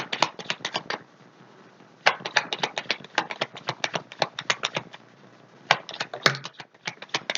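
Tarot cards shuffled by hand during a reading, a run of quick papery riffling bursts with brief pauses between shuffles, close and moderately loud with no talking.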